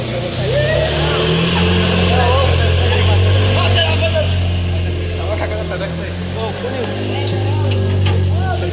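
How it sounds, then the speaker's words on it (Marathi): A Maruti Gypsy jeep's engine idles steadily after repair, a constant low rumbling drone close by that holds throughout while people talk over it. "आपली जिप्सी चालली."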